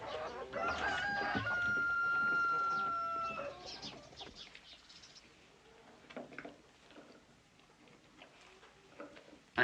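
Hens cluck while a rooster crows loudly and clearly near the start, followed by quieter scattered clucking and farmyard bird sounds with no talk.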